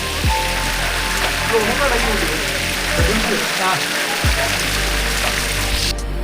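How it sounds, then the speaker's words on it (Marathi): Steady monsoon rain and rushing water flowing down the steps of Lohgad Fort form a dense, loud wash of noise, with low thumps and rumbles breaking through now and then. "पावसाळ्यात संततधार वाढत आहे त्यामुळे गडावरून येणारे जे पाणी आहे ते आपल्याला पायऱ्यावरून जाताना दिसत आहे"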